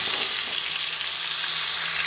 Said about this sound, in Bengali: এই হলুদ আর কাশ্মীরি লঙ্কাগুলো দিয়ে আমি পটল আর আলুটা ভেজে নিচ্ছি।